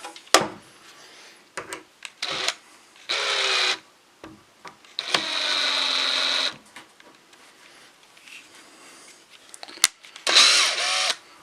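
Stainless steel 1 5/8 inch square-drive screws are driven into a wooden patio chair by a power driver, heard as several short, loud whirring bursts with pauses between them in a quiet workshop.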